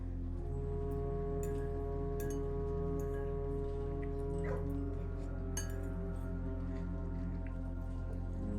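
Puppies in the video game Blue Prince, with a soft whimper and a yip against a steady, loud game music bed; faint clinks and brief high chirps rise above the sustained drone.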